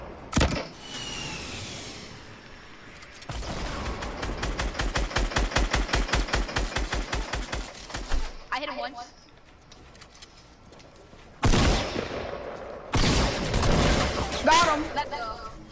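Video game gunfire crackles in fast automatic bursts, one long rapid string followed by shorter volleys with gaps between, loud and close, while players talk over it.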